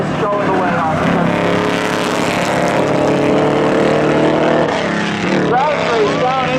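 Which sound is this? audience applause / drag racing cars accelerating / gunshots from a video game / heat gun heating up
drag racing cars accelerating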